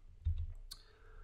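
A short burst of computer keyboard typing clicks, a few quick taps close by in a quiet room, heard alone.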